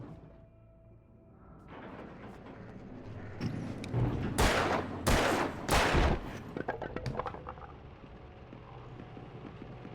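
Gunfire in the video game Alan Wake, a tight burst of three or four loud booming shots in quick succession, set over an ambient game drone with lighter clatter afterward.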